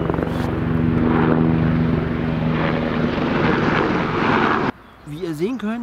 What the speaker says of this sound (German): Kommt wieder ein Flugzeug.